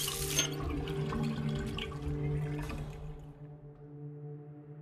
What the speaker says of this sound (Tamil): தேவையில்லாமல் தண்ணி வேஸ்ட் ஆகுது